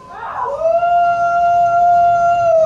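A person's voice imitates a werewolf's loud howl, one long sustained wavering cry that starts rough and settles into a steady drawn-out tone, close and loud, during a tabletop role-playing game.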